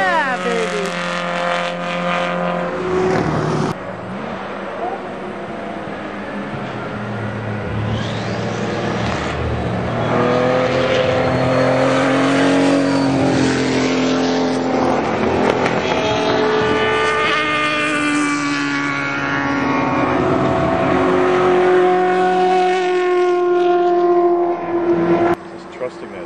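A race car at the Watkins Glen bus stop chicane, engine note rising and shifting as it speeds past, loud and sustained over roughly half a minute, with excited voices calling out over the engine.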